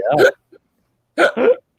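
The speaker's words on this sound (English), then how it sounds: "Big hiccup." A man on a front porch outdoors at night lets out a few loud, close hiccups after eating a frozen Reaper pepper; the jerky voiced bursts come in a quick pair after a single one, with silence between.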